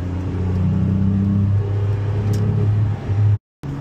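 A Renault Clio V6 engine drones in a loud, close rumbling rev that holds steady and rises slightly, then cuts out abruptly for a moment before resuming.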